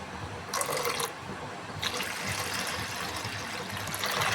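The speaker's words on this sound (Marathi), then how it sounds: "आता याच्यात टाकते मी एक तांब्याभर पाणी" Water is poured from a small pot into a yogurt and sugar mixture, a soft splashing trickle in short bursts and then a longer steady stream, fairly faint and close, with no talk.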